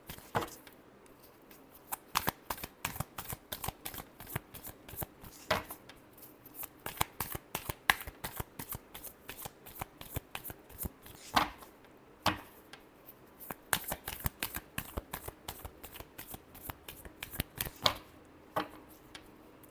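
Tarot cards are shuffled by hand in quick, crisp riffling bursts with short pauses between them, close and fairly quiet, with no talking.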